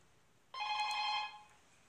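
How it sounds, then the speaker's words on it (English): A single burst of a telephone bell ring, close and fairly loud, lasting under a second against near silence. "sorry, the phone rang."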